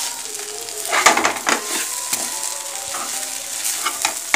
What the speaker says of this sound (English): Fry it well.